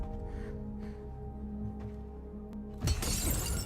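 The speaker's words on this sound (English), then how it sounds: "they break a glass." Glass shattering in a Nintendo partner showcase trailer, a sudden bright crash with scattering debris that cuts off a sustained musical drone.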